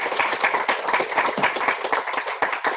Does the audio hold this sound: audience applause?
yes